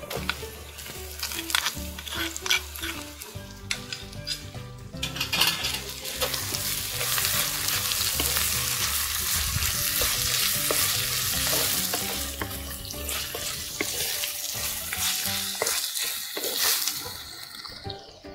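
Tomatoes sauté for crab gravy in a pan over a clay wood-fired stove, giving a steady, loud sizzle and frying hiss with bursts of stirring and scraping throughout.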